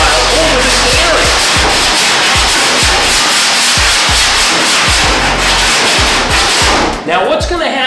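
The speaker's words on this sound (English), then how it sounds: "I'm gonna run the body file over this area" A body file scraped over a car body panel during dent repair, harsh rasping strokes repeating in a steady rhythm about twice a second, close and loud, with a clunk near the end.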